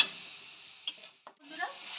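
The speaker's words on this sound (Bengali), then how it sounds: "মশলাটা কষিয়ে নিলাম" Masala paste with Kashmiri red chilli powder fries in a pan for a potato and egg curry, giving a close hissing sizzle broken by a couple of spoon scrapes, quiet overall.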